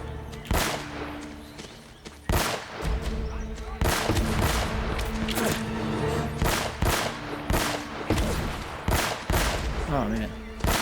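Enemies strafe with bursts of gunfire in the action game Uncharted: Drake's Fortune, loud rapid volleys of shots repeating throughout over a game music bed.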